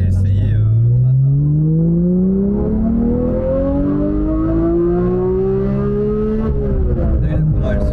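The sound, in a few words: Porsche 991 GT3 Touring engine revving while driving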